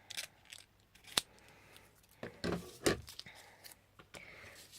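Scissors snip paper for a Halloween cupcake wand craft, several sharp, close cuts in an irregular rhythm, separated by quiet handling between strokes.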